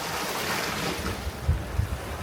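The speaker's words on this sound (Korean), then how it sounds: "조용한 파도 소리가 여행객의 발걸음을 멈추게 합니다." Gentle sea waves wash against a rocky shore along the Simgok seaside deck trail near Gangneung. The surf makes a steady, even hiss mixed with wind buffeting the microphone, and no one speaks.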